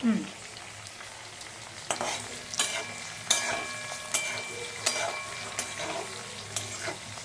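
Curry leaves sizzle and crackle in hot oil while mango rice (raw mango chitranna) is cooked, a steady close frying hiss broken by sharp stirring or scraping knocks roughly every second, with no talking.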